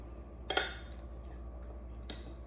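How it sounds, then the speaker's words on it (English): Spoon clinks and scrapes against a bowl while a spinach, egg and cheese bake is served, two brief metallic knocks about a second and a half apart over quiet room tone. "So I'm trying to get it out of the bowl"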